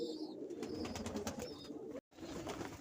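Pigeons cooing steadily and close by during winter feeding with a grain premix, a continuous low murmur of overlapping coos with a few higher chirps, briefly cut off near the end.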